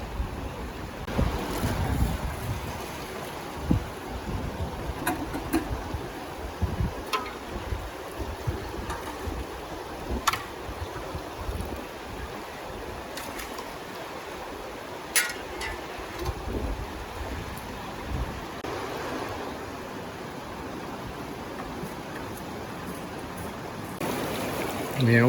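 Steady outdoor rush of water flowing through a Gold Fox high banker sluice with a dream mat at a river camp, a continuous broadband wash mixed with wind buffeting on the microphone and occasional splashes, with no voices.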